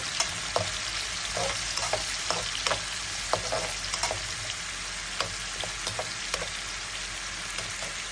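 Fish fries in a pan with a dense, continuous sizzle, punctuated by frequent crackles and occasional utensil clicks close up.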